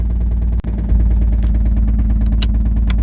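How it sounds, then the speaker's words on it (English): A Toyota Supra off-road car with a major rod knock, its engine running loud and close with a steady rumbling drone and dense rhythmic pulsing, briefly dipping before picking back up. "this car has a major rod knock"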